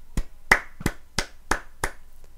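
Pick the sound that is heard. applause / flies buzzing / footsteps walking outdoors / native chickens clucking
applause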